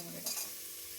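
Onions hit hot oil in a pan with a short hissing burst, then settle into a soft, quiet frying sizzle close by.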